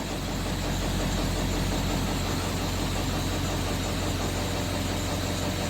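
A skoolie bus engine idles steadily just after starting, a loud continuous low rumble with a constant mechanical drone and no talking.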